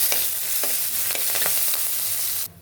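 Curry leaves hit hot tempering oil already holding garlic, mustard seeds, cumin and dried red chillies, giving a loud, steady crackling sizzle with sharp pops and stirring scrapes that cuts off abruptly near the end.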